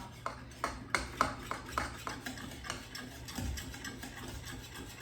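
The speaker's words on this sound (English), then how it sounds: "So I just want to give this a final stir, kind of get anything that might have stuck to the bottom off." Panko breadcrumbs being stirred in a pan over medium heat give a series of close scraping, rasping strokes, with soft gritty rubbing between them and no talk.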